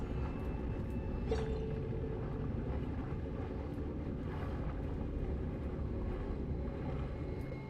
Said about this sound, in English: I'm gonna have to find a way to stop this turbine from spinning to get past